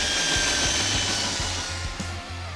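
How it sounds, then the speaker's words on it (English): Belt sander working over metal truck parts for a mud-racing Willys mega truck build, a steady close abrasive whine running throughout with a low rhythmic thump repeating under it, no talking. "Now, a belt sander is a great piece to have in your shop."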